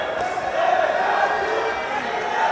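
A boxing match crowd roars in a continuous, loud wash of cheering and shouting from a large audience that swells slightly midway and holds steady throughout.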